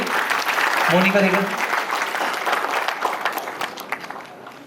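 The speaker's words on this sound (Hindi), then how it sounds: "जोरदार तालियां बजाएं इनके लिए।" An audience at an awards ceremony in Jaipur breaks into loud applause, a dense burst of many hands clapping that gradually thins out, with a voice briefly audible over the start.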